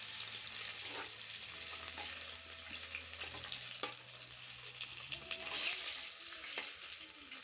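Nigella seeds and onion paste sizzling in hot oil in a pan, a continuous fairly quiet fry with occasional stirring and spluttering, and no talking.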